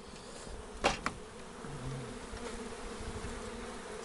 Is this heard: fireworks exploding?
no